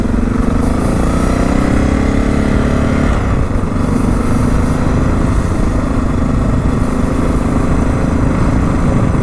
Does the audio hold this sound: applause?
no